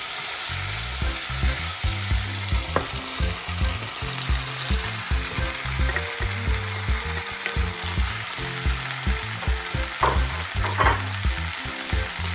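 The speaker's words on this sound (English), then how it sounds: "Let's give them a good stir fry until the beans turn a vibrant green" Tempeh and broad beans sizzle steadily in a hot pan, a close continuous frying hiss with rhythmic stirring and tossing, over faint background music.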